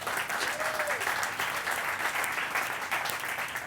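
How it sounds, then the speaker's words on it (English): A live audience claps in a sustained round of applause at a growth hacking talk, steady and dense for several seconds with a faint high tone near the start. "Let's give them a big round of applause."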